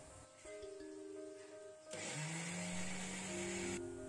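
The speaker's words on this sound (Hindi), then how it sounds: "अब हमें इसे मिक्सर में ग्राइंड करके ऐसे स्मूथ पेस्ट बना लेना है।" A mixer grinder whirs in short bursts, its motor pitch rising and falling as it churns a thick load of soaked lentils for idli batter, then settling into a steady loud grind.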